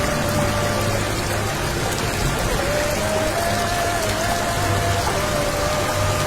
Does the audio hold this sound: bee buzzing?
no